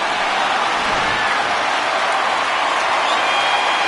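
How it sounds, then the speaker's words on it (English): Baseball crowd at a Colorado Rockies home game roaring after Charlie Blackmon's hit, a dense, steady wash of cheering and applause from a thinned-out stadium audience, continuous and loud throughout. "Blackmon gives the Rockies fans who remain in attendance something to cheer about"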